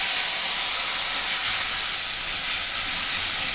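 Spice paste with whole cumin, kababchini (cubeb pepper), whole garam masala and a little turmeric sizzling in hot oil for a soybean curry with sour yogurt, a steady loud hiss and crackle running unbroken throughout.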